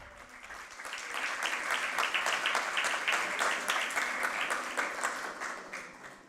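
An audience at a bicentennial ceremony in La Rioja, Argentina applauds a professor receiving an award, a sustained dense wash of clapping that swells and then holds steady.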